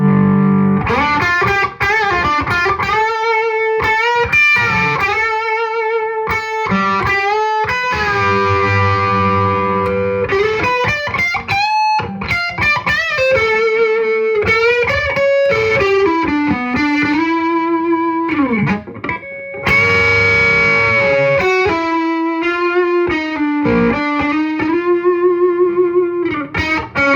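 Electric guitar, an ESP USA Eclipse with Bare Knuckle Cold Sweat pickups, driven through the rhythm 2 channel of a Mesa Boogie Mark III+, playing a loud, distorted riff with sustained notes and chugging palm-muted bursts, continuous and close, with no talk.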